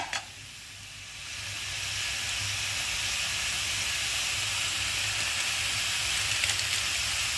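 Chicken fry with chicken masala powder cooks in a pan, giving a steady, quiet hiss of sizzling that swells slightly after a sharp click at the start and holds evenly to the end.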